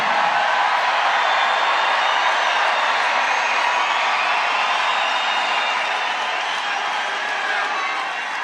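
A large rally crowd at a Turning Point event for Trump in Duluth, Georgia cheers and roars in a dense, loud, continuous wash of voices that never lets up.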